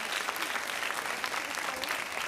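An audience at an event claps together in a steady, even burst of applause, a faint, somewhat distant wash of many hands with no break across the moment.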